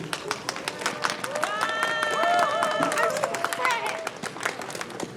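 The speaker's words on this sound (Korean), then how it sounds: "다시 한번 큰 박수 부탁드리겠습니다." An audience applauds at a New Year's Eve bell-ringing ceremony in Sejong, its steady clapping rising to a dense peak midway and then thinning, with a sustained tone and crowd murmur running underneath.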